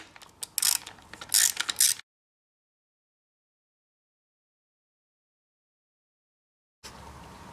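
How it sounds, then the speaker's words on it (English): A ratchet loosens a bolt on the ignition coil of a 2021 Yamaha YZ450F motorcycle with a knocking engine. Quick, close clicking bursts of the pawl are followed by silence, then a low background hiss. "Now I have to unscrew this bolt right here to pop this coil out."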